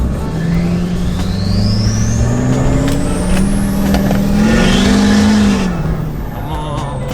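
Big pickup truck with a coal-rolling diesel setup, engine running loud and steady throughout, its low drone rising and falling as it accelerates, with a rising whine over the top.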